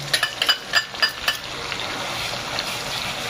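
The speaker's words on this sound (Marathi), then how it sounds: "ते पण चांगलं आपण मस्त खरपूस भाजून घ्या।" Konkani onion-coconut masala roasting in a pan, with a few quick scraping stirs at the start and then a soft, steady sizzle close by.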